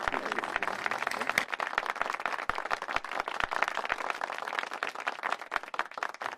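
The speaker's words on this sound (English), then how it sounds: "Round of applause, ladies and gentlemen." An audience claps at a corporate banking event, a steady patter of many hands with a few sharp individual claps standing out, moderately loud and continuous.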